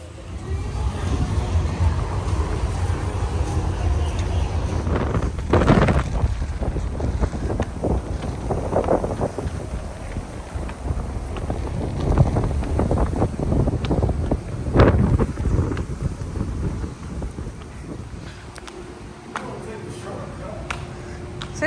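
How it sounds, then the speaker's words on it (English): Strong, warm wind in Aruba buffets and roars across the microphone in gusty bursts, with a voice talking faintly underneath. "even though it's really windy, it's still warm."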